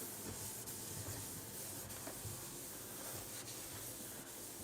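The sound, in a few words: wiping a built-in stovetop with a dry cloth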